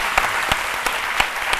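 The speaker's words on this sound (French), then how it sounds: "Merci d'applaudir Showtime." Studio audience applause on a French midday TV show, a dense steady wash of clapping with a few sharper claps popping out, fairly loud and close, with no talk over it.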